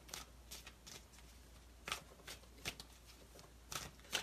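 Self-care cards shuffled by hand in quiet surroundings, giving a series of soft, brisk riffling bursts at irregular intervals with faint background hiss.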